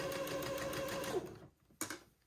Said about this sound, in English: So I will tack it at the edge of the sleeve and at the bottom of the hem